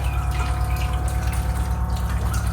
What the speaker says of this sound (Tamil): இந்த நாலு மீன் கழுவிடு